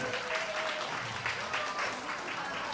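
A seminar audience at a business lecture gives brief applause, a fairly soft patter of clapping lasting under three seconds with some voices mixed in.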